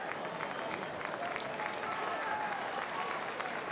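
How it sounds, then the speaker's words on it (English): A crowd at a Leigh rugby league match applauds the players, steady continuous clapping from many hands at a distance, with a commentator speaking over it. "Leigh players being applauded as they return back to their end of the field"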